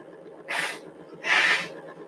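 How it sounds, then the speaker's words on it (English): Someone blows their nose in two short, breathy honks a moment apart, close and moderately loud with no talking. "blow my nose"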